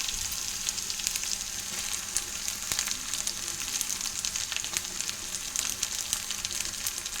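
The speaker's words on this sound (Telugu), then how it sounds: "ఇలా వేగాక మనం టమాటాలు వేసుకోవాలి" Small fish frying in a pan with tomatoes, a steady close sizzle with faint crackles running throughout and no one speaking.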